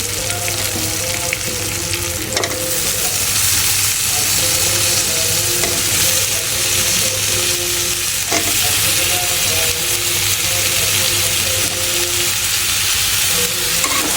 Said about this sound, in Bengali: রান্না করার জন্য আমি মশলা কষাইতেছি আদা রসুন দিয়ে দিচ্ছি হলুদের গুঁড়ো মরিচের গুঁড়োটাও দিচ্ছি